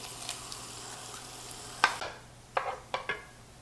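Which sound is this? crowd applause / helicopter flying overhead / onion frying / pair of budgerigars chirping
onion frying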